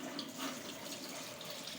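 Tap water runs steadily over a sieve holding fermented oil cake, a continuous, close splashing rush with no pauses or voices.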